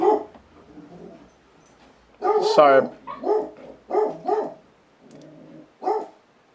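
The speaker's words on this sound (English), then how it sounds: "The dogs are barking." Several sharp dog barks ring out close by, interrupting a man's speech, with a few more barks following in quick succession.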